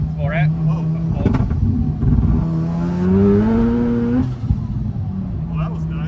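A Mazda RX7 with a rotary engine accelerates hard, its loud, close engine note climbing steadily in pitch before backing off, with people talking over it.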